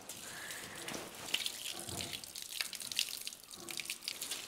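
Running water rinses conditioner out of a Shetland pony's tail, a steady close splashing and trickling stream that rises and falls in short bursts, with no talking.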